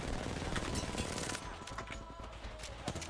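Rapid automatic gunfire in the Apex Legends shooter game, a dense burst of shots up front that thins into scattered fire, with a voice talking over it.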